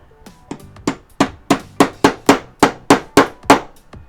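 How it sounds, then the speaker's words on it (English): Hammer blows tapping a part down into a tight fit on a portable air compressor for car tires, about a dozen sharp, evenly spaced strikes, close and loud with no talking. "now we're going to get our hammer and we're going to put that right down in there"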